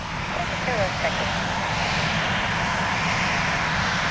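An airliner's engines roaring at high power on its takeoff roll down the runway at Tampa airport, a loud, steady broadband rumble throughout.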